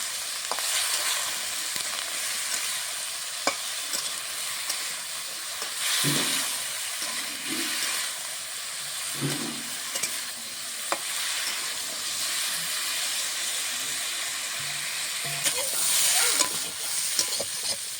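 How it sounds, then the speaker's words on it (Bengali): Pieces of moringa drumstick fry in a pan with salt and turmeric, giving a constant crackling sizzle with repeated stirring scrapes and clinks. The sound is close and busy, with no talking. "সজনে ডাঁটাটা ভালো করে ভেজে নেবো।"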